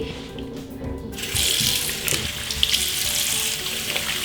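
Running water rinses shower cream off skin, a close, steady splashing and hissing flow that grows louder after the first second and continues without talk.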